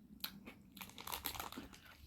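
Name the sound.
chewing crunchy chocolate cookie truffle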